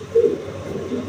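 A pigeon gives a single soft coo, close by and fairly faint, over a low steady background hum.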